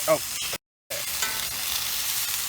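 A burger sears in a cast iron pan with a hard metal spatula scraping firmly across the bottom, brief scrapes over steady frying hiss, cut by a short gap of silence.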